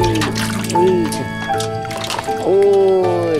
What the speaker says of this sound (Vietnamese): cái thuyền đi sóng to gió lớn đấy